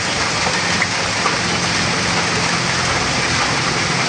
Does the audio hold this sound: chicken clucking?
no